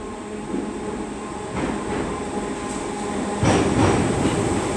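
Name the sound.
British Rail Class 507 electric train passing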